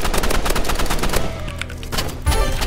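Rapid, continuous automatic gunfire rattles loudly through a Roblox Rivals match, dense overlapping shots that ease slightly midway before another heavy burst near the end.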